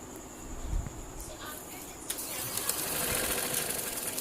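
A sewing machine stitching a trouser runs in a faint, steady whir with a brief clack at the start, quiet and close, while a voice talks over it.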